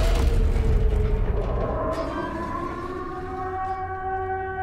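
A wailing civil-defense-style siren in Silent Hill 2 Remake rising and falling over a low rumbling background, steady and prominent throughout, with no talking.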